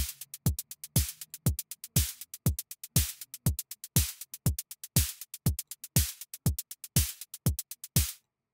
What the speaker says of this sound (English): So that's a kick, 808, snare, and hi-hat.